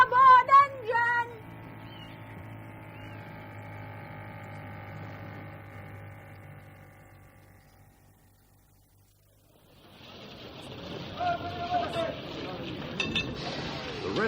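A ship's engine in a radio drama gives a steady, low, droning hum for about eight seconds and then fades away. Other clattering sounds follow it.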